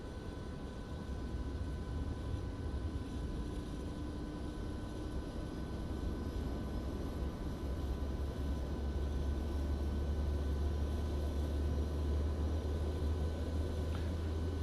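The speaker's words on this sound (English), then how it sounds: "APU's coming in." Boeing 737-800 APU spooling up in a PMDG flight simulator cockpit, a steady low drone with a faint whine, constant and unbroken throughout.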